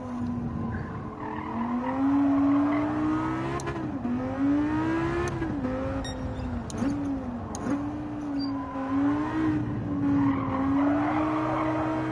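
Tires squeal and skid steadily on a car in Gran Turismo 7, a sustained wavering screech over engine drone lasting the whole stretch, loud and close with a few brief clicks along the way.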